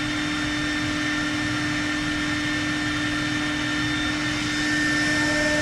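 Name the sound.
Patriot CNC machine spindle cutting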